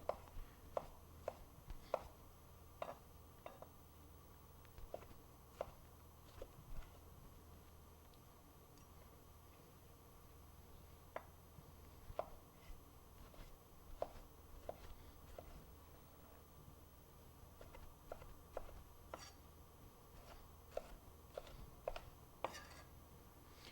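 A knife dices tomatoes on a cutting board in a series of quiet, sharp chops, irregular bursts of quick taps separated by pauses, close and alone against a hushed room.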